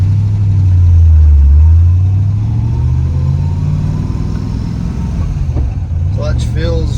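A 1966 Shelby GT350 with a 4-speed manual pulls away on a drive, its V8 engine rising in a loud, close rev, then settling into a steady drone as it cruises.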